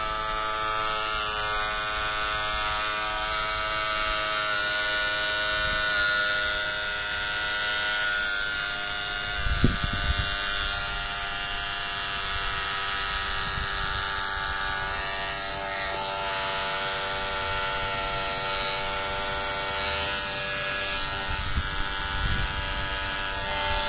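An electric hair clipper trims and tidies the hairline border as the final touch of a haircut, giving a steady, close, unbroken buzz throughout with slight shifts in pitch as it moves.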